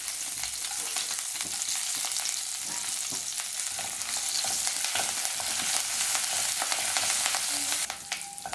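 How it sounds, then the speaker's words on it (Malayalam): Curry leaves fry in hot coconut oil in a kadai, giving a steady, close, loud sizzle with crackling that runs without pause, and a brief stir near the end. "വെളിച്ചെണ്ണ നന്നായിട്ട് ചൂടായിട്ട് വരുമ്പോൾ നമ്മൾ നേരത്തെ മാറ്റി വെച്ച് 5 തണ്ട് കറിവേപ്പില ഇതിലേക്ക് ഇട്ട് കൊടുക്കാം."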